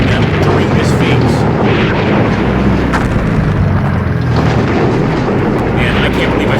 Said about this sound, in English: See those explosions as they're moving, that's just letting you know that our bombers are striking them during this phase.